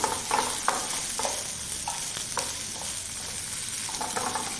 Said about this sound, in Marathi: मिरच्या आपण भाजून घ्यायची